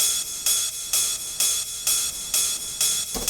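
Ride cymbal sample loop from a house music production, pitched down, with bright shimmering hits repeating in a steady pattern of about two per second, loud and alone.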